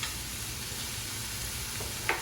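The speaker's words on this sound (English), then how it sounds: "We hear that nice sizzling sound. That's what we want, because we want to get these asparagus cooked." Asparagus frying in a pan gives a continuous close sizzle with soft crackling, joined near the end by a brief scrape of stirring.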